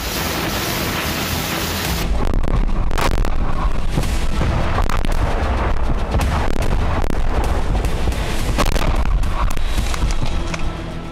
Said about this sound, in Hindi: बेलगोरोद में भी यूक्रेन लगातार गोलीबारी कर रहा है।